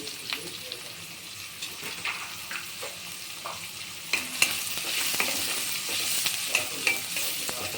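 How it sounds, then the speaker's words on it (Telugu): Onions sizzle in oil in a pan for noodles, a steady close frying hiss that swells louder partway through, broken by occasional sharp pops and light scraping as they are stirred, with no talking. "ఆనియన్స్, కొద్దిసేపు వేగాలి."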